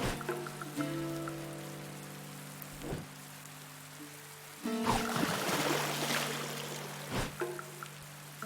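Rain in the video game Dead In Vinland falls as a soft steady patter beneath sustained musical tones, with a few brief louder splashes and thumps mixed in.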